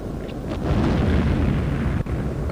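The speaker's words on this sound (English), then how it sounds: "I just heard an explosion" A loud, sustained rumbling blast in a jet combat video game fills the clip, a heavy explosion roaring with broadband noise, with a brief dip near the end.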